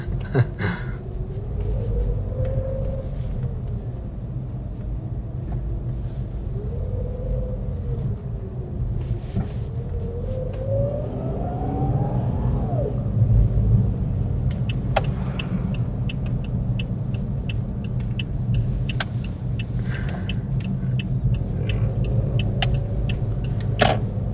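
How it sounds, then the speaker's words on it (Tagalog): A vehicle drives along a quiet road behind a large truck, with a continuous low engine and road rumble that stays steady throughout and a faint wavering tone drifting over it. "Meron akong sinusundan na malaking truck."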